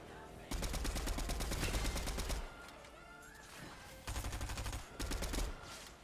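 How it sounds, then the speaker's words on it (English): Rapid gunfire crackles in a Fortnite match, in dense bursts with brief gaps, under faint background noise and a voice speaking at the start. "Shots coming out from high ground."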